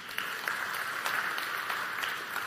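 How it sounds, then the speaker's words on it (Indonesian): A church congregation gives a brief round of applause, a moderate spread of clapping with a few sharper claps standing out, steady over a couple of seconds. "Kita beri tepuk tangan."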